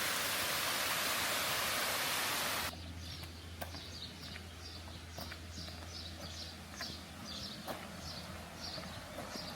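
Waterfall at the Cascade des Tuffes in the Jura, a loud broad rushing roar that cuts off abruptly after a few seconds, leaving quieter outdoor ambience with faint bird chirps.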